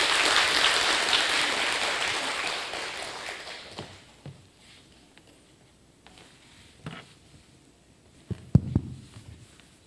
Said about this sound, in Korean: 박수로 한번 맞아주시겠습니다